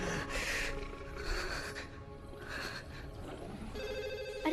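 A telephone rings in repeated bursts with pauses between them, fairly faint, amid some low background rustling.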